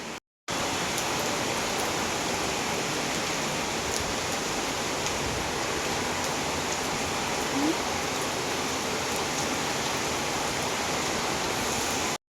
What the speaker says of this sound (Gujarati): બહુ જ ફાસ્ટ વરસાદ પડી રહ્યો જોરદાર